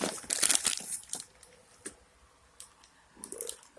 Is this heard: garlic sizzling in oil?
no